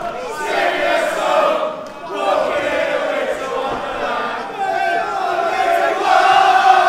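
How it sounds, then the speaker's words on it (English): At a professional MMA event, a large crowd chants and sings in unison for fighter Lee Mitchell, loud rising and falling voices filling the arena throughout. "Crowd singing for Lee."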